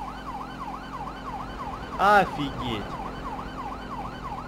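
Grand Theft Auto 5 emergency siren wails in a steady repeating rising-and-falling cycle throughout, moderately loud, while someone briefly speaks over it.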